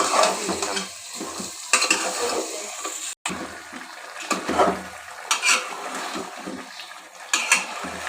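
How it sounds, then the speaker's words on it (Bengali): Meat tipped into fried masala in a pot is stirred with wet, squelching scrapes and clanks over a hiss of frying, the bursts coming irregularly and close by. "মশলাটা সুন্দর মতো কষানো হয়ে গেছে মাংসগুলো দিয়ে দিব"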